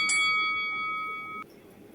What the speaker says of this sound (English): And yeah, so the bell sounds like this.